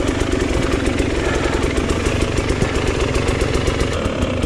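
An enduro motorcycle engine idles with a steady, close, low-pitched throb and rapid even firing pulses during hard enduro riding on rough ground, with no voices.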